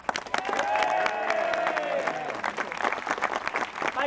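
An audience breaks into loud, sustained applause with cheering, while a voice rings out over the clapping at the start.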